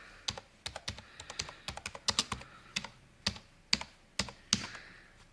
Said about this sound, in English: by typing control panel